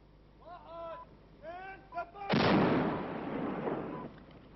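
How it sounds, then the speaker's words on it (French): Artillery fires on Syrian positions on the ridges opposite, one loud, near boom that rumbles and decays over two seconds, following someone speaking. "L'artillerie tire sur les positions syriennes, sur les crêtes d'en face."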